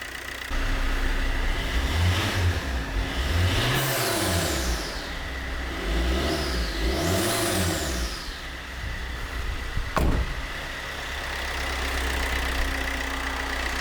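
An auction van's engine revved repeatedly in a garage, rising and falling in several close, loud swells, then a sharp pop as the turbo pipe blows off, followed by idling.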